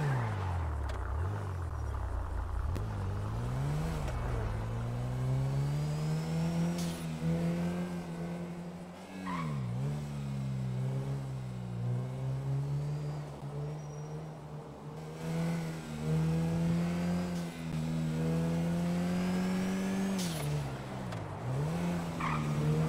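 Car in a video game pulling away and skidding, a loud continuous engine drone with rising and falling pitch sweeps as it accelerates and shifts, with tire squeal mixed in throughout.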